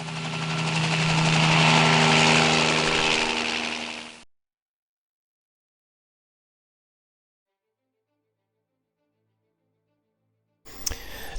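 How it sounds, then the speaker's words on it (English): Helicopter in the naval strategy game Harpoon Classic '97, a loud droning rotor and engine hum with steady low tones that swells and then cuts off abruptly, followed by silence and a brief burst of noise at the end. "Bring that helo"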